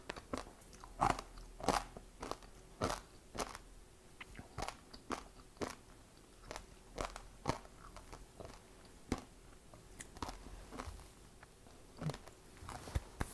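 Crispy scorched rice, nurungji, is bitten and chewed close up, sharp irregular crunches repeating every half second or so over quiet, with no talking.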